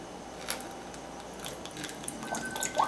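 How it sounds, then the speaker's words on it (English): A Magic Mixies toy cauldron filled with water bubbles quietly, with soft, scattered pops and drip-like plinks at irregular intervals that grow slightly busier toward the end. "those are the bubble sounds"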